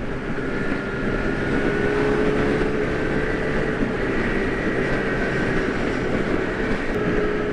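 Steady droning engine and road roar from a moving motorcycle, continuous and fairly loud, with no voices.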